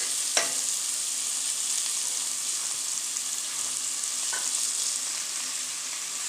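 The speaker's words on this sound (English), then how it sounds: "Meantime the butter is melting, I'll be adding my seasoning. Okay, and this is my onion, garlic," Onion and garlic with seasoning frying in melted butter in a pot for a Jamaican one-pot meal, a steady close sizzle with a couple of light stirring knocks, no talking.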